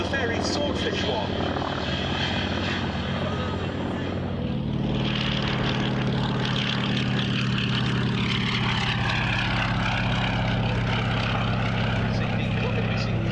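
A Fairey Swordfish propeller biplane drones overhead at the Duxford Battle of Britain airshow, a steady engine roar that swells louder partway through, heard outdoors alongside people talking.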